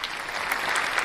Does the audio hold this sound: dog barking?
no